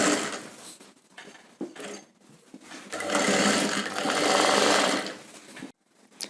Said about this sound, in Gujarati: અત્યારે આપણે કાચી સિલાઈ લગાવીએ છીએ આમાં